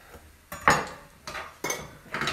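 Radishes being finely sliced by hand with a knife on a board, four or five quick crisp cuts and taps in an uneven rhythm, close and fairly quiet, with no voices.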